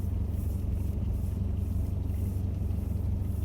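A 4x4 creeping slowly through shallow water on a wild off-road trip, a low steady engine rumble with soft continuous churning, faint and unbroken.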